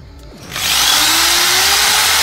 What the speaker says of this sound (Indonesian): Ternyata pisau TNI ini tidak mempan dibor